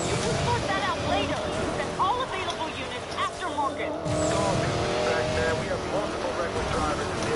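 Corvette engines in a video game roar and whine continuously, with tire squeal and shifting pitch as the cars race, while players talk excitedly over the driving noise.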